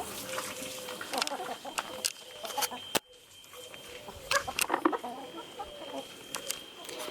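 A small hen squawks and clucks in agitation after wandering in among the ducks, with other fowl and farmyard noise around, a sharp click midway, and a few bursts of squawking rising and falling.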